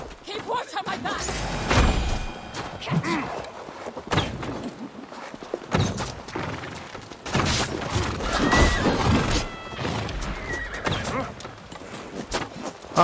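Horses whinny and snort amid clashing combat in the video game Assassin's Creed, with thuds, crashes and voices layered in a loud, busy mix.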